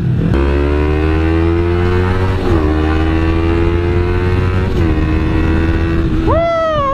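A 2011 Kawasaki Ninja 250 motorcycle engine whines at high revs while riding, pitch climbing steadily through the gears and ending with a sharp rev.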